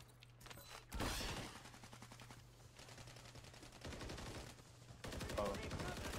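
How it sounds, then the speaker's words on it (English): Rapid gunfire in a Call of Duty match, bursts of automatic shots crackling through most of the stretch with a steady low hum underneath and some faint voice chat. "Someone's shooting at me from up front."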